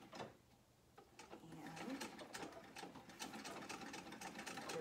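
A Singer Model 66 sewing machine stitches fabric, a fast, steady mechanical whirr with rapid needle clatter that builds after a brief pause, close up, with a single spoken word at the start.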